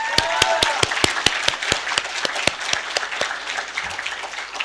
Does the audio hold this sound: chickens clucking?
no